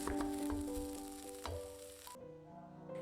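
Brown rice with peas fries in a pan, giving a soft steady sizzle with light crackles and a few stirring scrapes, fairly quiet and close.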